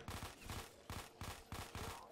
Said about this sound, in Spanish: La lluvia de tiros es horrible, tío.